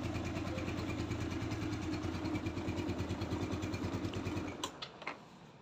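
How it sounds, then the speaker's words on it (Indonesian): A 2005 Yamaha Nouvo Z scooter engine idles smoothly and steadily up close with an even low pulsing, then cuts off near the end, leaving a few faint clicks. "Dan suara mesinnya juga halus banget."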